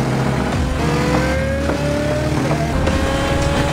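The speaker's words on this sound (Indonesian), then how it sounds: "Pasangan sombong ini memacu mobilnya." Loud car engine revving hard during a car chase, a rising whine that climbs through gear shifts over roaring road noise, close and continuous without speech.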